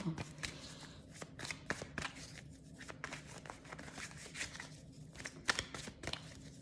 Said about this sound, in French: On va tirer deux ou trois cartes avec l'oracle coup de cœur